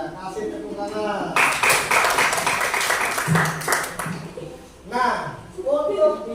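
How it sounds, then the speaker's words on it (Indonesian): Students in a class give a burst of hand clapping after a group presentation, a few seconds of mid-level applause framed by talking voices before and after. "Iya, kasih tepuk tangan."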